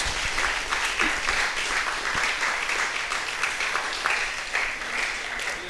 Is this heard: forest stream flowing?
no